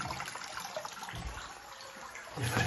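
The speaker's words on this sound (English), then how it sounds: "Water running." Water runs through a patterned river channel at Petty River in Trelawny Town, a continuous soft splashing flow that swells slightly louder near the end.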